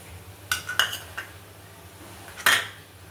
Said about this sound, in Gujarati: આ રીતે હલાવતા રહેવાનું।